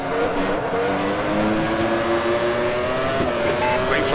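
A Formula 1 race car engine in the F1 1996 sim racing game at Interlagos screams at high revs in a steady, loud whine, rising slightly in pitch through the gears with no pauses.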